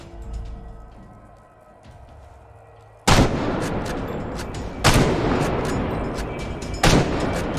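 Gunfire in Insomnia: The Ark rings out as three loud, close blasts spaced a couple of seconds apart, each followed by a long rumbling tail, after a quieter stretch of low background ambience.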